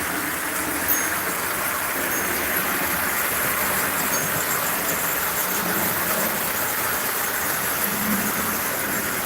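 A small Tyco model train runs along a track layout, making a steady, close whirring rumble that continues without a break.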